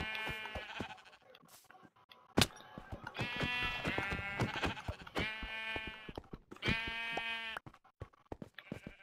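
Several sheep bleat in repeated, wavering calls at close range, in bursts spread across the clip, with a sharp knock partway through and faint background noise between calls.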